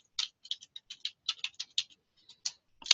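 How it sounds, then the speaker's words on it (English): Quick keystrokes tap on a computer keyboard as a search keyword is entered, a run of crisp clicks in short irregular bursts, close by in a quiet room. "I'm going to type in mainstreaming"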